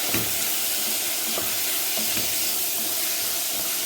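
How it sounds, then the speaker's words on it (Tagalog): Chopped tomatoes being fried and stirred in a pan while cooking red rice, giving a steady, close sizzling hiss with occasional scraping clicks of the spoon against the pan. "so linagay po natin yung kamatis"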